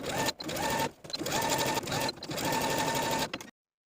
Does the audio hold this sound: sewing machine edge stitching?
yes